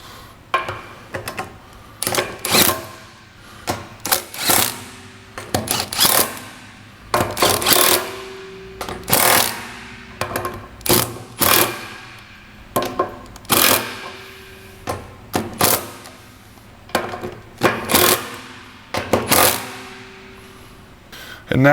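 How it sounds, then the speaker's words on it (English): Repeated short clicking bursts from a ratchet wrench snugging down four 9/16 nuts on a Mud Hog pump during a paddle shaft seal kit change, with an irregular rhythm of quick clicks separated by brief pauses, close and fairly loud. "now we'll retighten our 4 9/16 nuts"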